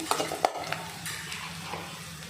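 Onions frying golden in a pan for tomato thokku, a soft steady sizzle with a few sharp spoon-against-pan clinks near the start, close and fairly quiet, no voices.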